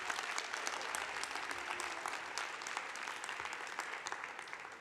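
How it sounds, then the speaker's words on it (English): Warm, steady applause fills a ceremony hall as the audience welcomes first-time attendees, a dense continuous patter of many hands kept at a moderate distance. "A big round of applause to them."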